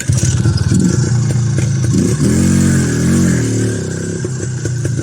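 An IZh Planeta 5 enduro motorcycle engine revs loudly and close, its pitch rising and falling with the throttle, with clattering mechanical noise throughout and no voices.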